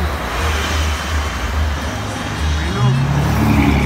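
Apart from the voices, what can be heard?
cars, trucks and buses passing on a road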